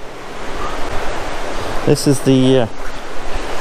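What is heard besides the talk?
sea waves by cliffs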